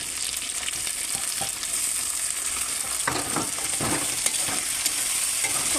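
Chopped tomatoes stirred in hot oil in a frying pan: a continuous hiss of frying with bursts of spatula scraping and stirring, busiest in the latter half.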